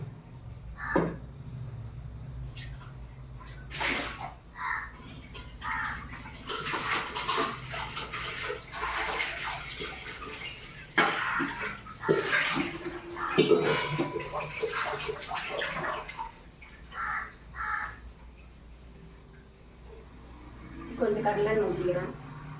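Running water splashes and gushes in bursts as mutton is rinsed, with a person talking and occasional clatter of a container.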